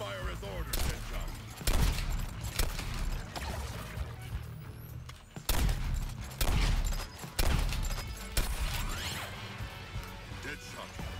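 Gunfire in Suicide Squad: Kill The Justice League: loud bursts of shots and heavy crashing impacts come in uneven waves, with game voices talking in between.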